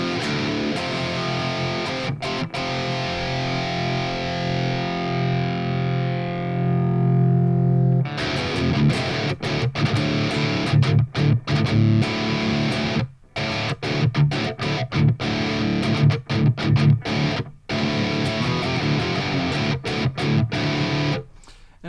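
An electric guitar through the ML Sound Lab AMPED Black November amp plugin with the Infamous impulse response, heavily distorted: a long ringing chord fades out, then tight, choppy high-gain palm-muted riffs with sharp stops.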